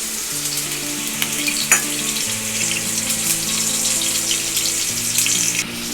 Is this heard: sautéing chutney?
yes